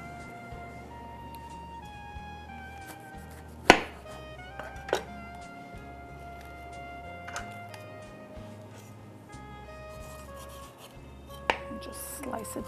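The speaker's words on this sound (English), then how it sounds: "Just slice it julienne." A knife slices colorful bell peppers julienne on a board, giving sparse sharp taps and a few louder chops spread out over a quiet kitchen background with soft music.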